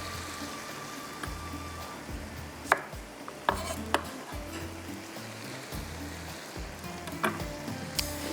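Green chillies and coriander cook with dal in a pan, giving a soft, steady sizzle with scattered clinks and taps of a utensil against the pan.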